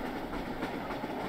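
Steady rumble of a moving train carriage in a Garry's Mod horror map, a continuous low rolling drone with faint rhythmic clatter, heard alone and fairly quiet.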